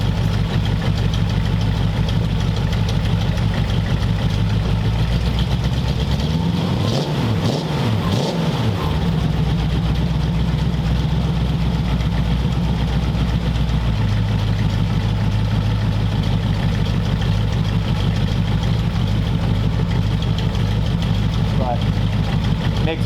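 Hot rod roadster with a custom exhaust idling mildly, a steady low rumble throughout with a brief rev-like swell near the middle, close by.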